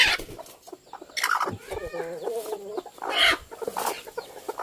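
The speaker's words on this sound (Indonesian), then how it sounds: "Ini ayam kampung biasa tapi rusuh." Ordinary native village chickens clucking and squawking restlessly up close, a burst of agitated fowl calls with loud irregular cackles.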